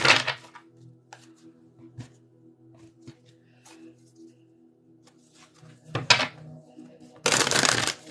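Oracle cards being shuffled by hand, with brief crisp riffling bursts at the start and near the end and a longer riffle at the close, set against a quiet room with faint background tones.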